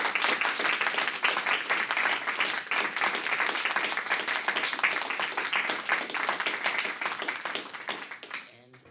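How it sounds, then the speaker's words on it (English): Sustained audience applause after a talk in a lecture hall, a dense steady wash of many hands clapping for several seconds before tapering off at the end. "So maybe a final round of applause."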